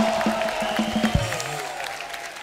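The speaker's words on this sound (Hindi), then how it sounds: "जोरदार तालियां वर्षा जी के लिए हो जाए।" Studio audience clapping on The Kapil Sharma Show to welcome a guest: steady, moderately loud applause with a few sharp accents and faint musical tones underneath.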